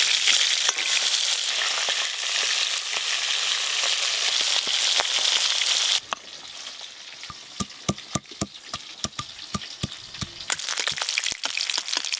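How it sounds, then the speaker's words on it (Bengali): Fish, including pomfret and large bhetki, frying in hot oil, with a loud, dense sizzle that breaks into sharp crackling pops and spatters, then surges back into a full sizzle. "মাছগুলো বেশ ভালো করে ভাজা হয়ে গেল।"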